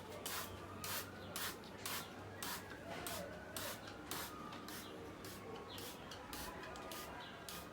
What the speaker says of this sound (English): Now we'll spray some water.